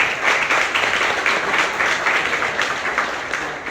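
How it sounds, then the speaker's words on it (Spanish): A church congregation breaks into applause during a Spanish-language service, a steady wash of many hands clapping together for a few seconds, moderately loud with no talk over it. "Denle un aplauso al Señor."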